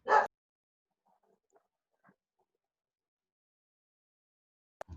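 Single short dog bark, loud and close, at the very start, followed by near silence with faint clicks and a brief noise at the end.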